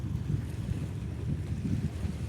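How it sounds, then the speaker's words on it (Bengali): Strong wind buffets the microphone at a Padma river launch ghat, a loud continuous low rumble with gusting swells, with no voices over it. "প্রচুর বাতাস"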